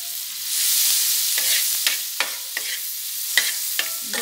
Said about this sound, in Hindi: इससे हम प्याज को ऐसे सेक लेंगे